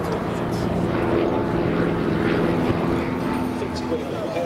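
An Auster AOP-6 propeller aircraft flying at Duxford, a steady droning engine hum close by and continuous, heard under ongoing commentary from a man.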